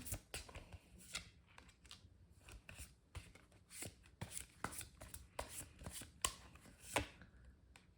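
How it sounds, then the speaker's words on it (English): A deck of tarot-style advice cards being pulled out and handled, with soft papery shuffles, rubs and light taps in irregular bursts, close and quiet with no voice. "let me just pull out another set of like advice cards for you"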